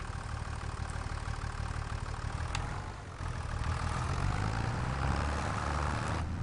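Tractor engine idling in the farming game Farming Simulator 25, a steady low diesel rumble holding evenly throughout with a brief dip midway and no talk over it.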